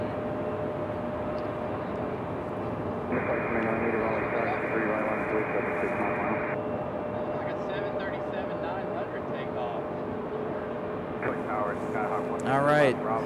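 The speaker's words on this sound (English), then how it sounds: "Leaving heavy, Aeromexico. Aeromexico using up most of the runway." An Aeromexico heavy jet takes off at Raleigh-Durham International Airport, using most of the runway. A steady, broad engine roar carries through the whole stretch at a distance, with faint voices in the background.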